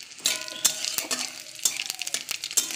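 Panch phoron spices hitting hot oil in a wok and crackling, with sharp irregular pops and clinks from a stirring utensil against the pan. The sizzling is close and fairly quiet.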